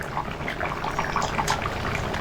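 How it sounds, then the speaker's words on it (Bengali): A fish and eggplant curry made with fresh pond-caught catla bubbles steadily on medium heat, giving a soft, continuous liquid burble with small pops, moderately loud and close, with no voices. "মাছ দিয়ে 2 থেকে 3 মিনিট সময় ধরে মিডিয়াম আঁচে তরকারিটা ফুটিয়ে নেব।"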